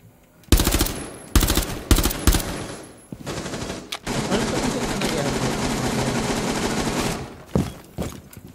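Bursts of rapid gunfire in the video game Rainbow Six Siege crackle in quick volleys, then a long sustained stream of automatic fire, loud and close, with a few final shots.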